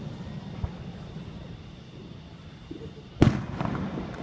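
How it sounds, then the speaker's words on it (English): Fourth of July fireworks burst at a distance: a faint early pop, then one sharp loud bang followed by crackling and rumbling echoes over a quiet background. "It's fireworks."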